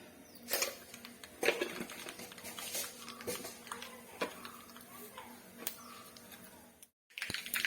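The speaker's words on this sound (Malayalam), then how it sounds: "കടുക് പൊട്ടി" Mustard seeds splutter in hot oil for a mango curry, a close, irregular run of sharp crackling pops of varying loudness that breaks off briefly near the end.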